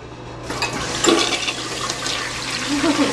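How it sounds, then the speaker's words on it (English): An old 1988 Murray Savoy toilet with a cracked tank flushes close by. A sudden rush of water swells into a steady swirling gurgle that continues to the end. "you wanna flush it? Let's flush it."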